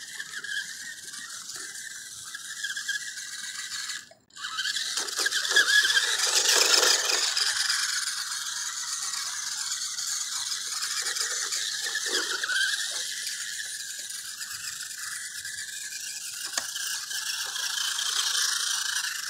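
Carisma SCA-1E Coyote scale RC car driving, a loud high electric motor whine with gear chatter that drops out briefly, then returns and holds steady, close to the listener.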